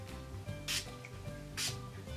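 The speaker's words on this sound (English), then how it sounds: "I'm just going to be using my Urban Decay All Nighter Makeup Setting Spray." Urban Decay All Nighter makeup setting spray gives two short, soft pumped hisses about a second apart, close and quiet with nothing else heard.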